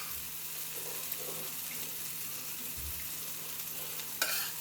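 Boiled dal being stirred into a tomato tadka in a pan, with a faint steady sizzle and soft scraping stirs, quiet and close, plus a brief clink near the end.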